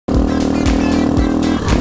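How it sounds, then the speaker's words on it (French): A struggling, nearly dead motorcycle engine idles roughly and loudly up close, its low, uneven pulses and rattling harmonics holding steady without a break. "Je sais pas si ils me regardent bizarre à cause du bruit de la moto"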